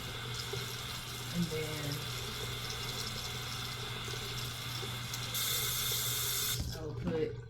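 Tap water runs steadily from a faucet into a sink while the ends of hair are wetted before conditioning, with a brief voice heard over the continuous flow.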